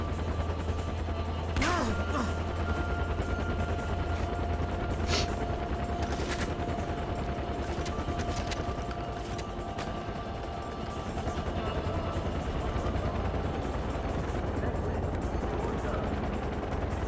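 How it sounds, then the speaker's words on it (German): Helicopters drone under bursts of machine-gun fire and scattered gunshots in the video game Far Cry 4, a dense, continuous battle mix with someone talking over it. "wie viele Hubschrauber kommen denn da noch?"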